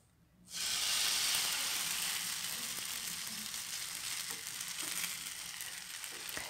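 Flattened dough for Moroccan rfissa hits a hot pan, and a loud, steady sizzle starts at once and holds without a break, with faint crackles underneath, no voices.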